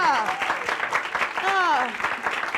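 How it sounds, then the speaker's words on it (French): A stand-up comedy audience claps in a rhythmic patter while a performer's raised, sliding voice cuts over the top, the applause staying close and steady beneath the calls. "Quand tu applaudis, tu contamines les autres."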